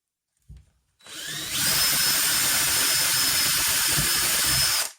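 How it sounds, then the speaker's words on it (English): A power drill with a small bit bores a hole in wood. After a brief knock, the motor spins up to a loud, steady, high whine that holds for about three and a half seconds, then cuts off abruptly. "So we have a small drill bit in the old drill."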